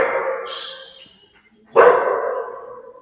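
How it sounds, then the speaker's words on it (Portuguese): A dog gives two loud, close barks about a second and a half apart, each ringing out briefly before fading, during a Portuguese-speaking online meeting. "o cachorro"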